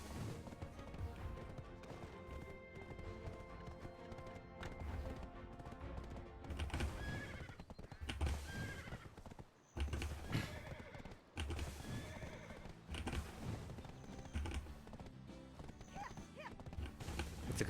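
Horse hooves clip-clop at a gallop in the Black Desert video game, with whinnies over steady game music, fairly loud throughout.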